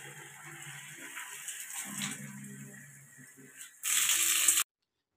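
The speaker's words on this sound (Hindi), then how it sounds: "पानी की बोतल से भर लेता हूँ पानी" A water bottle is filled from a tap, heard as a short, loud gushing rush of water near the end that stops abruptly after quieter indoor background sounds.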